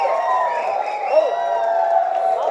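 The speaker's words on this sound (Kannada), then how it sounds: "ಭರ್ಜರಿ ಚಪ್ಪಾಳೆ" A crowd at a movie pre-release event claps and cheers in a loud, steady burst, with a few whoops rising over the dense clapping.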